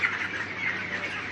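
A poultry shed holding thousands of young chickens in hot weather gives off a quiet, continuous din of overlapping chirps and squawks. The chorus is brief and steady, with no talk.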